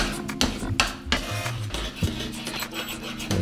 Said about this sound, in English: Now let's get a chopping and mixing.